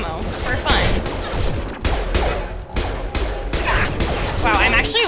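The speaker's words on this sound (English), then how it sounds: "I'll use incendiary ammo for fun" Gunfire with incendiary ammo in Mass Effect 2 video game, rapid bursts of shots and sharp cracks over several seconds with fiery hissing impacts, a voice speaking intermittently underneath.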